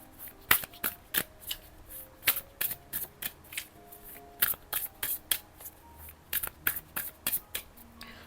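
Tarot cards are shuffled by hand at close range in quick, uneven bursts of crisp slapping and sliding card noise, quiet overall, with no speech.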